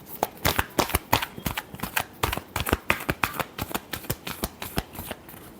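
A deck of tarot cards is shuffled by hand, a rapid run of sharp riffling bursts in an uneven rhythm, close and fairly quiet, no voices.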